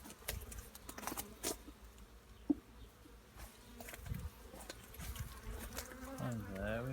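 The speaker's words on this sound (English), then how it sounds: "And there we've got the bees." Honeybees drone in a continuous low buzz close by at a hive, with occasional louder passes as individual insects fly near.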